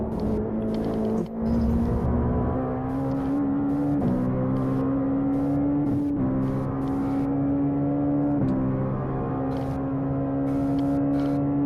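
A Legends race car on a road course in iRacing drones with a steady, loud engine note, climbing gradually through gears with brief dips at each shift, and no one talking.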